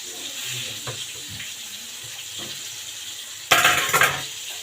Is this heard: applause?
no